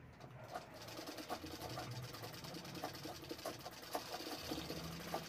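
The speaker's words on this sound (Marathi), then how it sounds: "इथे व्ही शेपमध्ये आपल्याला गळा शिवून घ्यायचा आहे" Sewing machine stitching a V-shaped neckline on a designer lehenga, a faint steady mechanical whir with light rhythmic ticking, quiet and continuous.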